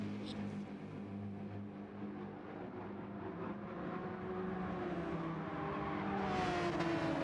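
A Porsche 911 RSR race car engine drones steadily in a racing game on the Nürburgring GP circuit, its pitch rising as it accelerates, heard under continuous commentary.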